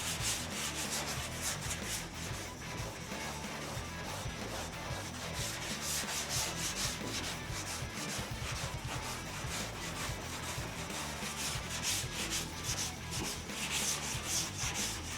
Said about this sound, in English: Why is Kevin's sanding dust white?